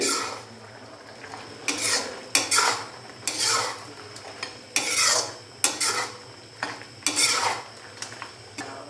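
Green chillies and roasted crushed cumin being mixed into mutton in a karahi, with a spoon scraping in repeated rhythmic strokes, about a dozen close clattering scrapes separated by short pauses, no talk.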